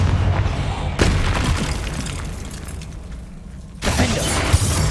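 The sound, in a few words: Confringo spell blast exploding in Hogwarts Legacy video game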